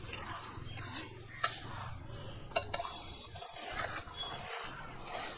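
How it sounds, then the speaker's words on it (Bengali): Olives are mixed by hand with sugar and vinegar in a bowl for a sweet-and-sour pickle, making wet, squelchy stirring and rustling close by, with a couple of sharp clinks of a utensil. "চিনি, ভিনিগার আর জলপাই দিয়ে ভালোভাবে মেখে নেব"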